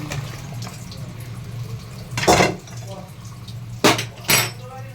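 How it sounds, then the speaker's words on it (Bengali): Hot water poured into a pressure cooker holding mutton for a potato curry: three short splashing pours, the first longer and the last two quick and close together, over a steady low background. "এবার এই গরম জলটা আমি ঢেলে দিচ্ছি।"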